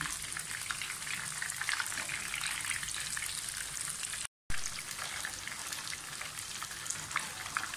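Chicken donuts deep-frying in hot oil, giving a steady, dense crackling sizzle that continues almost without change apart from one brief dropout midway. No voices are heard.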